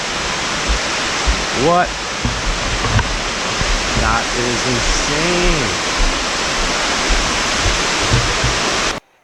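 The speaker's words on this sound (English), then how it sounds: "The Dan waterfalls is actually epic." Roaring rush of the Dan waterfalls in Jamaica, a steady broadband wash of falling water filling the whole clip, with people talking and exclaiming over it nearby.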